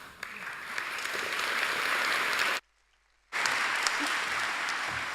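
Loud, sustained applause from a graduation ceremony audience, broken by a short silent gap before the clapping resumes.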